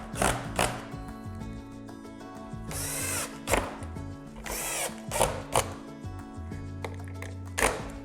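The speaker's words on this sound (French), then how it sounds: "On visse les 2 planches." Power screwdriver driving screws to join two pallet wood boards for a shelf, with several whirring bursts that rise in pitch, close and loud, separated by short pauses and light handling knocks.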